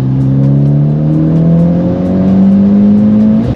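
A Mitsubishi Lancer Evolution X with a 295-horsepower engine pulls hard under acceleration, its loud, close engine note rising smoothly for a few seconds before cutting off abruptly.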